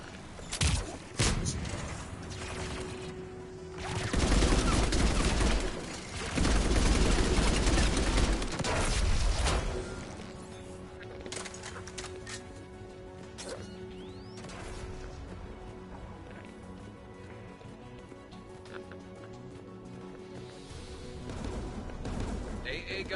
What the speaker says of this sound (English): AA guns ahead of us.